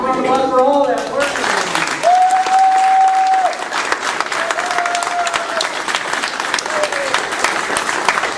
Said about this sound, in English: Round of applause for all that work.